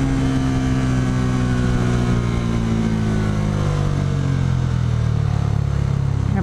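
A Bajaj Dominar 400 motorcycle on a test ride gives a steady, close engine hum that holds for several seconds, then rises sharply in pitch as the throttle opens near the end. No one speaks.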